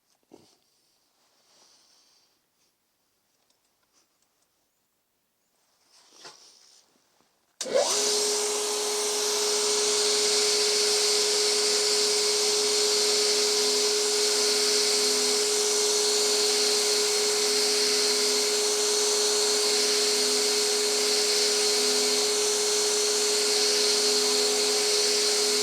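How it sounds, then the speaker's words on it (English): Belt grinder running a 220 grit belt against a pitted steel dagger blade: after several seconds of near silence with faint handling noises, a loud, steady abrasive whine with a constant tonal hum starts abruptly and continues close up. "I just wanted to show you this one while I'm still on the 220 grit belt, just how this cleans up."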